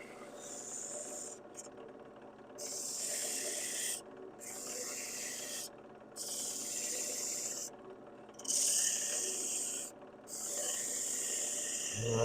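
A 120 grit roll-off sanding disc rubs against a spinning wood turning on a lathe, producing a harsh hissing rasp in repeated passes of about two seconds, separated by short silent breaks.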